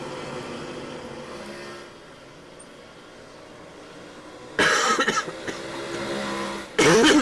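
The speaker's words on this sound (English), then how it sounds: "Sorry for the periodic cough tonight." Two short bursts of coughing, one midway and one at the end, rising over a steady sim-racing dirt-track engine hum in the background.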